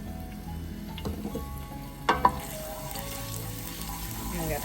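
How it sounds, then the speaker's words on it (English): Garlic cooking in warming olive oil, a soft continuous sizzle in the background with a couple of sharp clanks near the middle, close and without speech. "we're going to get our garlic in there. Just wait a couple seconds for the olive oil to warm up."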